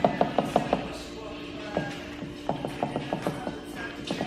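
Play in an OS Giken Supra differential shows up as a string of quiet metallic clicks and clunks, ratchet-like knocks in short irregular bursts as the unit is turned back and forth, close and faint.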